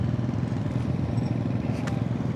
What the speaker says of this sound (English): you can hardly hear the engine